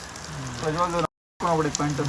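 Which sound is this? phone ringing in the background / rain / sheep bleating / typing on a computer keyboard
rain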